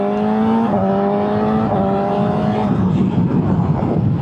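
A 2025 BMW M 1000 XR motorcycle accelerates hard in second gear, its engine note climbing loud and close through quick-shifted steps before settling into rough road and wind noise.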